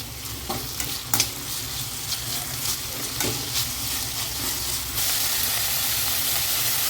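Onion, green chili and tomato frying in a pan for ragi rava kichadi, a continuous sizzle with scraping stirring strokes, turning into a louder, steady hiss near the end.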